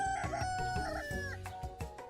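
A rooster from the video game I Love You, Colonel Sanders crows and clucks in a few quick, fairly faint calls, heard alone.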